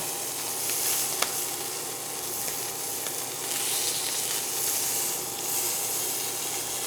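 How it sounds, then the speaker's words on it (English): Steak searing in hot oil in a good pan gives a steady, close sizzle and crackle that lasts throughout with no talk. "You want to sear each side of the steak. Move the oil in the pan around a little bit."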